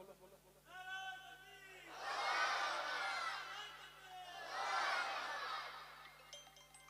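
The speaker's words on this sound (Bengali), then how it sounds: "একজন তাকবীর দাও, সবাই মিলে বলো।" A crowd at a Bengali religious gathering chanting takbir together, two loud unison shouts after a single voice leads, with a speaker's voice just before.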